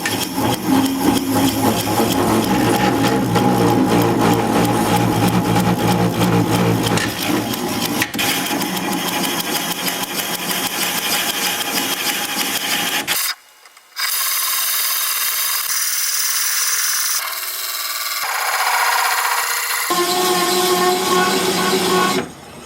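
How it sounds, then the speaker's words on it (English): Wood lathe spinning at about 200 RPM while turning a wooden flower pot, a loud continuous rubbing, scraping drone with mechanical whir that drops out abruptly and shifts to changing tool tones later. "Lathe is spinning at about 200 RPM."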